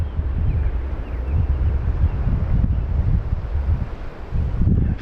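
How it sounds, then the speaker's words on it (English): A gust of wind ahead of incoming rain at a house addition framing site: steady, loud blustery rushing with rustling throughout, swelling slightly near the end, with no voices. "We get a gust and then some come down."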